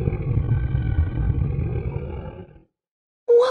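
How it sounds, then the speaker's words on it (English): A beast's loud, sustained roar from a Beauty and the Beast story soundtrack rumbles deep and heavy for about two and a half seconds, then cuts to silence before a brief tonal sound begins. "What's that terrible noise? Asks Beauty. The beast is coming, says her father"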